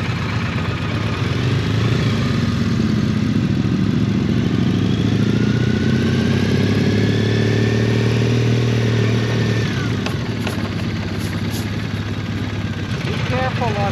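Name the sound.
motorcycle riding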